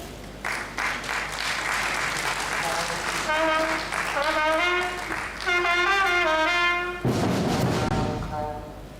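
Audience applause at a university science conference opening ceremony, a steady wash of clapping that fills the hall throughout, with a voice speaking over it partway through.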